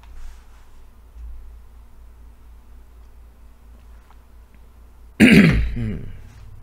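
A single sharp throat-clearing cough bursts out loudly near the end, after several seconds of quiet low hum.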